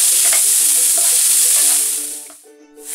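Pumpkin pieces fry with garlic in a pan, giving a loud, steady close-up sizzle with occasional stirring clatter that briefly dips near the end before surging again.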